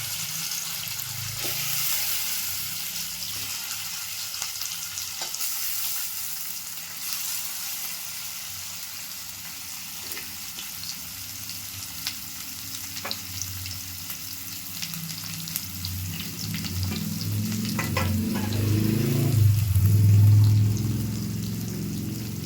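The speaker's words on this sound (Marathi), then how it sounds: "आता मच्छी टाकते फोडणीला" Bangda mackerel frying in hot oil for tempering, a continuous crackling sizzle that swells louder toward the end as the fish hits the oil, with occasional light clinks.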